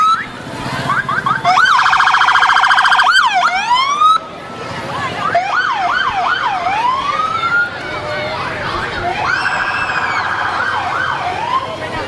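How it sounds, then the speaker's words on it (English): Several sirens from vehicles in a Christmas parade wail and yelp together, loud and nearby, with rising-and-falling tones and rapid warbles overlapping for the whole stretch. "all the sirens and things going off."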